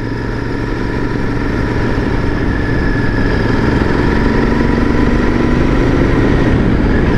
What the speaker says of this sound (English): I'm a big fan of a custom motorcycle sounds and the custom exhaust